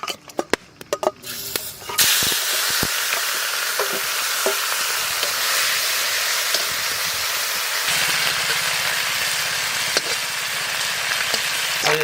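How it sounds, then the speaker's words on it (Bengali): Lata fish frying in mustard oil in a pan at a village pondside cooking spot, a loud, steady crackling sizzle that holds throughout after a few sharp pops at the start. "লেঠা মাছগুলো ভাজবো"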